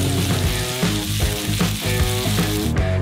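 Sausages frying in melted butter on a hot electric grill at a Korean street food stall, a loud, dense, continuous sizzle with crackle close by and no voices.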